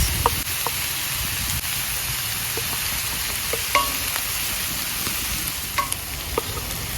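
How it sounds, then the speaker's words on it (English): Garlic, seasoning and scallions sizzle steadily in a hot pan, a constant close hiss of frying with occasional light clicks of stirring. "I'm just going to saute these garlics and seasoning"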